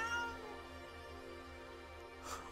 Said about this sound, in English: It's something meowing.